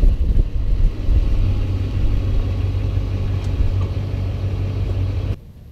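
A pickup truck engine idles at close range while hooking up a fifth-wheel trailer, a steady low rumble with no talk that cuts off sharply near the end.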